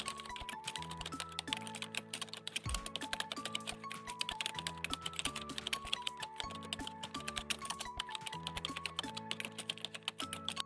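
Fast steady typing on a computer keyboard, with dense rapid key clicks running throughout under soft background music.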